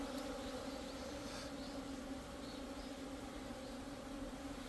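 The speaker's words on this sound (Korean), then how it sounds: "이놈들은 장수말벌입니다." A steady, low insect drone fills the air, Asian giant hornets buzzing together nearby, continuous and unbroken, with no voices.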